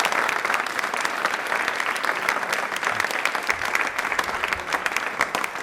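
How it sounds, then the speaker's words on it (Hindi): Loud, dense applause from a large audience at a Rajasthan quiz show, steady and sustained for the whole stretch with no talking over it. "प्लीज एक बार तालियां जोरदार हो जाएं"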